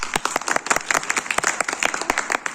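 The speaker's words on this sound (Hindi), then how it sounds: "ताली बजाओ।" Audience clapping at a lecture on the constitution, a dense burst of many hands applauding together, close and loud for a few seconds.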